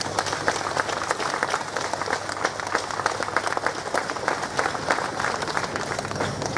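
Outdoor crowd at the closing of a Hutsul folk festival applauds the mothers, a continuous mid-level patter of many hands clapping from a little distance, without speech.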